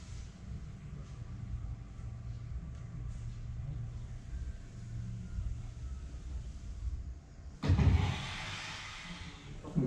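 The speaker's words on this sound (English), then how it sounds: "right here at the end, you're going to hear the air brakes" Zipline air brakes halt a rider at the end of the run with a sudden loud hissing burst that settles into a fading rush, after a stretch of low wind and rolling rumble.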